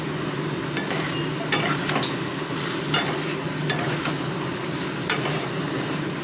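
Jaggery being stirred into a cooking pan of banana-flower mash, with a steady low cooking hiss and several sharp scrapes and knocks of the spoon against the pan, close by with no talking.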